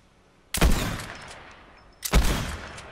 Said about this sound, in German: Der schießt auch noch auf uns.